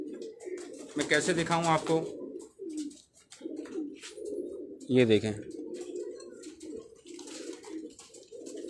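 Pigeons of a rare breed with bulging eyes coo in bursts in a rooftop loft in Pakistan, two strong calls standing out near and loud while someone talks throughout.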